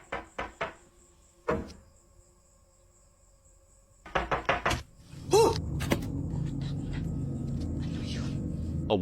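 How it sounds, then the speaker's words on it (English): Late-night knocking at a front door: sharp knock bursts, two quick series and then a cluster after a pause, followed by a door clattering and scraping amid low rustling, near and fairly loud. "this strange late-night visitor knocking at her front door"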